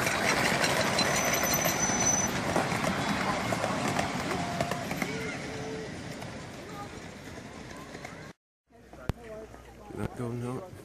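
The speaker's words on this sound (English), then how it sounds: "here's the steam engine coming past." A steam engine rumbles past with a broad, noisy roar that slowly fades, followed by a brief cut and then people talking nearby.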